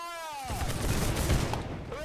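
Musket volley fired in the Holdfast video game: a dense crackling burst of many shots at once, loud and sustained for over a second, following an opening shouted command.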